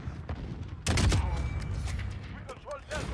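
Sniper rifle gunfire in the video game Call of Duty: Modern Warfare, with a loud sharp shot near the start followed by a few fainter scattered shots and game noise.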